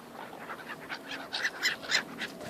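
Birds call outside in a run of short, honking, quack-like cries that grow louder toward the end, heard alone without speech.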